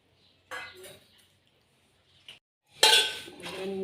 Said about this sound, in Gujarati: તો જો મમ્મી ઉટકી રહ્યા છે વાસણ